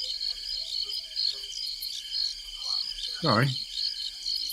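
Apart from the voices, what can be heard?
crickets chirping sound effect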